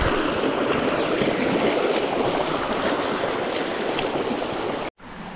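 Mountain river water rushing and splashing over rocks on the way to El Salto Curet waterfall in Maricao, Puerto Rico, a loud, steady broadband wash that cuts off abruptly near the end.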